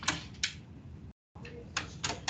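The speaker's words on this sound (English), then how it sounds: "Is she typing it up?" Keyboard typing by a student taking notes during a math class, a few quick key clusters close by, briefly cut by a short gap of silence before more bursts of keystrokes.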